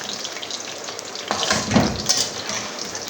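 Okra (bhindi) browning in oil in a home-kitchen pan, a steady sizzle with a brief louder surge of crackle and clatter midway, fairly close and with no talk over it.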